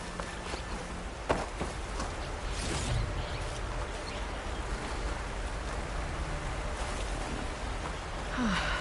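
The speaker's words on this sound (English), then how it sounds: "Rain." Rain in the video game Horizon Forbidden West: soft, steady hiss fills the scene, with a few scattered close taps and thuds breaking through the even wash.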